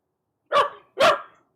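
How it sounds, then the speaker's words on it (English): A dog barks twice at a pizza, two sharp, close barks about half a second apart in a quiet room. "Now she's barking at the pizza itself."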